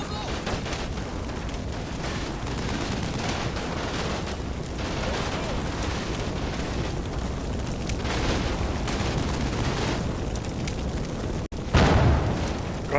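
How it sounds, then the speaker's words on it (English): Artillery shells exploding in the Combat Mission wartime strategy game, a sustained rumble of heavy booms and blasts with a sharp louder burst near the end, under a speaking voice. "the Americans are calling in artillery somewhere"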